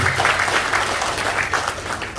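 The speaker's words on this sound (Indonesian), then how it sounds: "Tepuk tangan buat PT BES Bapak Ibu" An audience at a business seminar for PT BES applauds in a steady, dense wash of clapping that carries through the whole stretch at moderate loudness, with a low hum underneath.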